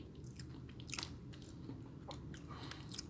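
Someone bites and chews a paçoca-flavored biscuit that tastes more like peanut butter and is less crunchy than another biscuit. Soft crunches and mouth sounds repeat close to the mic with no talking.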